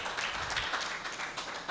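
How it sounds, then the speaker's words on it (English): An audience at a media week event in Uganda claps together for an honoree, a dense, even patter of many hands at moderate loudness that carries on steadily throughout. "So please clap for Jan."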